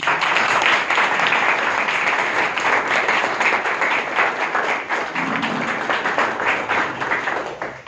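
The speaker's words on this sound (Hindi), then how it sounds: "जोरदार तालियां" Steady, loud applause from a sizable audience, dense clapping sustained throughout and tapering slightly near the end.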